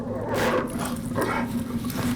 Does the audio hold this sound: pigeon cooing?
no